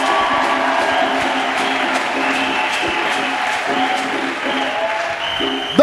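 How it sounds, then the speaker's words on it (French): A church congregation at a national Bible camp in Côte d'Ivoire applauding, a dense, sustained crowd clapping that fills the room with some cheering mixed in. "Acclamons pour Jésus-Christ."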